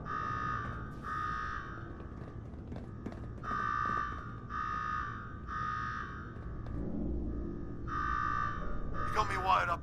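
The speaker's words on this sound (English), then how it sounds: "Now go shut off that damn alarm." Repeating electronic alarm in the Fallout 4 Nuka-World game, sounding in regular pulsed bursts over a low mechanical rumble, with a brief clatter at the end.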